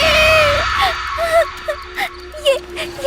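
A woman's loud, frightened scream in a Hindi horror story, set near a village well where a scarecrow stands. It is a close wailing cry that breaks into several short rising and falling bursts over about three seconds.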